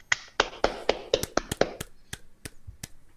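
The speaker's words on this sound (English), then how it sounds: "That's what you went with for a clap?" Clap sound effect played on a motocross podcast: a quick series of about a dozen sharp, dry snapping claps with no voices over them, landing in an uneven rhythm and thinning out toward the end.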